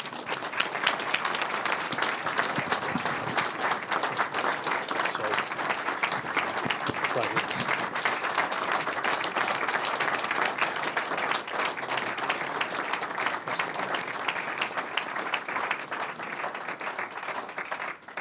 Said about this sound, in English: a giant round of applause for Ed and the entire team